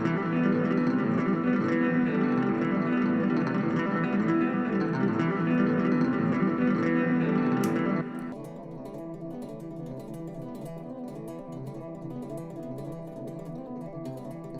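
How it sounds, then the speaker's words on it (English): An unusual prog-rock guitar part plays dense and loud, then thins abruptly after about eight seconds into a sparser, quieter rhythmic pattern that continues to the end. "we have this really weird guitar part that I wrote"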